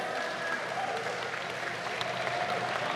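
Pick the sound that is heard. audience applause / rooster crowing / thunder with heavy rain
audience applause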